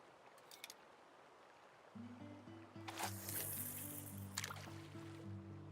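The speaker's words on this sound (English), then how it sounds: "Well, Darth, I've got the boat noise coming from a regular bass boat now." An idling bass boat engine on a Kentucky stream holds a low, steady droning hum that starts partway through and continues to the end, with splashy water noise overhead.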